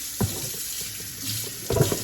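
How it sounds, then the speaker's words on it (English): Tap water running into a sink basin while a lace wig is being cleaned, a steady close hiss of flowing water with brief splashy surges near the start and end. "then I turn the water back on high"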